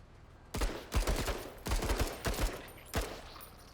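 Gunfire from combat units in the tactical video game Menace, a volley of sharp shots in quick clusters, about eight close, loud reports spread over a few seconds with brief gaps between bursts.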